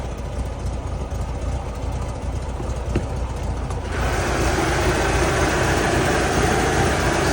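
A 1979 VW Brasilia with its original dual-carburetor engine idling smoothly after a cold start, a steady low mechanical drone that grows somewhat louder and fuller about halfway through, with no talking.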